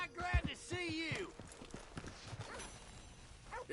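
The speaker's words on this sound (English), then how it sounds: "Hey! My horse!" Horse hooves clip-clop in the Red Dead Redemption video game, a brief run of hoofbeats heard under a voice and a short harmonic whinny-like call, fairly near and moderately loud.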